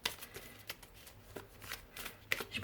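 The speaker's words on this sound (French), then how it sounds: "Je fais doucement pour mélanger les cartes parce qu'elles glissent." Oracle cards are shuffled gently, giving soft, close riffling and sliding swishes in irregular bursts, rather quiet, ending in a slightly louder flurry.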